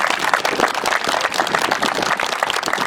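A crowd at an outdoor pilgrimage gathering claps for sponsors, a steady, moderately loud applause of many hands with no talk.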